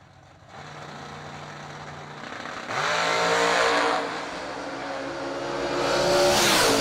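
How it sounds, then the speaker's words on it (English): A supercharged 1939 Chevy Coupe drag car with a big scoop, big wing and wheelie bars idles with a loud rumble, then revs hard and launches. The roaring engine climbs in pitch, surging and rising again as it pulls away. "Taylor Rich, the 39 Chevy Coupe, supercharged, big scoop, big wing, wheelie bars."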